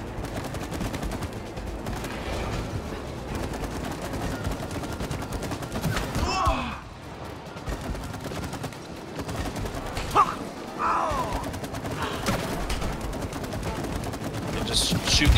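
Rapid gunfire rattles almost nonstop in the co-op video game It Takes Two as players shoot at enemies, with brief lulls and people talking throughout.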